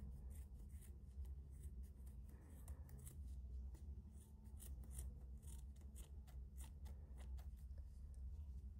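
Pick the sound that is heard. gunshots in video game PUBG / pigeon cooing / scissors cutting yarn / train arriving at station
scissors cutting yarn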